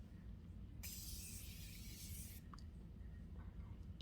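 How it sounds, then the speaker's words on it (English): A single long hiss of Morphe setting spray, about one and a half seconds, close and bright against a quiet room, followed by a couple of faint clicks. "go in with our Morphe spray"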